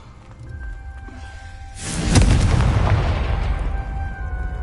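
A Confringo fire-blast spell in the wizarding game Hogwarts Legacy lands with a sudden loud explosive boom, then a long crackling, rumbling tail that slowly fades over a few seconds.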